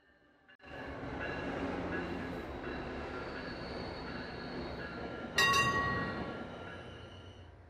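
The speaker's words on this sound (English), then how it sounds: "Go Transit commuter rail." A GO Transit commuter rail train in the Toronto area rolls past with a steady rumble and rattle of cars, rising in loudness toward the end with a brief metallic screech, no talking.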